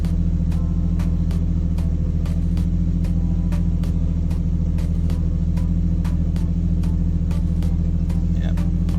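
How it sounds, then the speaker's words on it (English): A Nissan R33 Skyline engine idles steadily with a low, even rumble and faint regular ticking on top, no revving, constant throughout. "This is the car at idle. It's pretty quiet."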